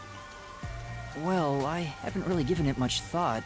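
Steady rain from the Master Detective Archives: Rain Code video game forms a soft, constant background hiss, continuing unchanged beneath a character's voice speaking throughout.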